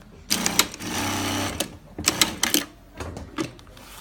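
Single needle industrial sewing machine fitted with a roller foot stitching fabric, running in several close bursts of rapid mechanical whirring with brief pauses between.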